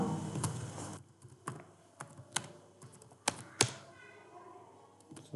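Computer keyboard typing while working in Excel, a few separate close key taps and short bursts of clicks with gaps between them in a quiet room.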